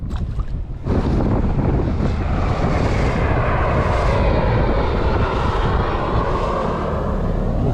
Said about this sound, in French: Décidément, les avions, il y en a en ce moment.